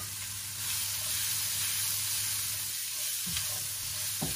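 Yellow and red bell peppers, tomato and bullet chilies sizzle steadily in a hot pan, a continuous broadband frying hiss with a few soft stirring clunks near the end.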